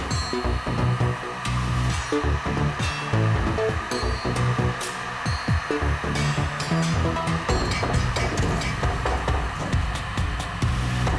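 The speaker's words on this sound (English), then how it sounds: "And then I'm gonna get my trusty heat gun and we're gonna blow these out." A heat gun blows steadily and loudly to pop bubbles in clear epoxy resin on an ocean beach design, a continuous close rushing hiss with scattered clicks and small knocks over it.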